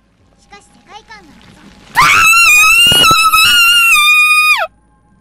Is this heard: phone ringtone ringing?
no